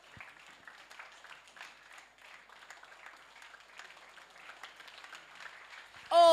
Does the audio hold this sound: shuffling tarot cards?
no